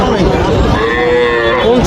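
A loud, sustained moo from a calf, close by at a cattle market, lasting nearly two seconds with no talking.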